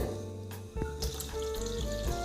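Water splashes and pours into a container from nearby as four tumblers are measured out, with trickling and a few clinks of the vessel.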